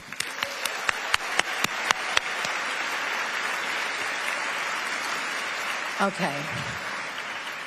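An awards ceremony audience breaks into broad, steady applause that fills the hall and holds throughout, with a few sharp nearby claps early on and a brief voice near the end.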